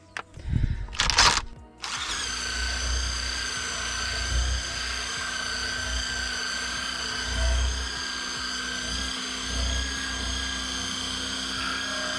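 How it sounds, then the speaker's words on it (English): A steady high-pitched drill motor whine runs continuously after a brief rustle at the start, loud and close, with low rumbling scrubbing underneath as a drill brush scrubs car carpet. "And then you go ahead with the drill brush."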